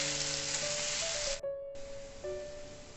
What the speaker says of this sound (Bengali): আলু আর পেঁয়াজ আমি একসাথেই ভেজে নেব।